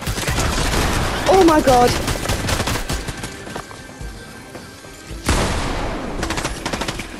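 Gunfire in Fortnite, heavy bursts of rapid shots up close during the first few seconds and again later, with a player exclaiming over the shooting.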